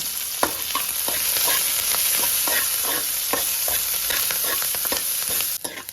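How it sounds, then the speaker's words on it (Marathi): Onion and curry leaves fry and crackle in a pan while being stirred, a steady loud sizzle broken by repeated scraping strokes of the spoon, close up and without talk. "कढीपत्ता मग कांदा चांगलं भाजून घेऊया"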